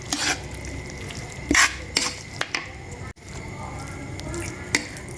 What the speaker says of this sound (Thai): เราต้องต้มเราต้องเคี่ยวไปเรื่อยๆด้วยนี่